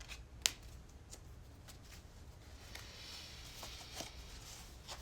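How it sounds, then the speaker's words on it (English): Tarot cards being shuffled, a quiet soft rustle and riffling close by with a few light snaps and taps, no talking. "Just going to shuffle these cards here"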